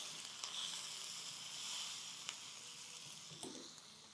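Dried red chillies, green chillies, curry leaves and asafoetida tempering in hot oil, giving a steady, soft sizzle with a few brief crackles and pops, no voices.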